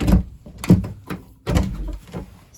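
A door in a pottery studio opens to the outside with a few close wooden thunks and rattles, a heavy bump, then a sliding, scraping movement.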